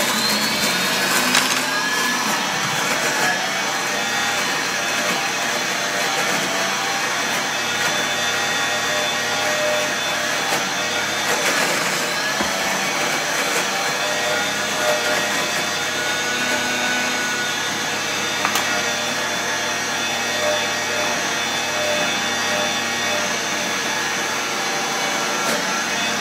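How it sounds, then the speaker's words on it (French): A food processor runs steadily, whirring loudly and continuously as it mixes focaccia dough with olive oil, a dense motor drone with no talk over it throughout. "le robot est lancé."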